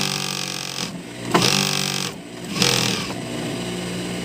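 An old, long-unused sewing machine motor whirs and revs in short bursts, speeding up and easing off twice in a loud, close drone with no talking.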